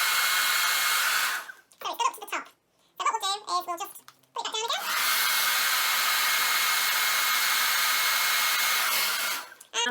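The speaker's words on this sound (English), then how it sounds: "We put that in position, we get our hairdryer, and we try it again." A hair dryer blows loudly and steadily on a small model wind turbine, cutting out for a few seconds while a voice chatters, then roaring back on until near the end.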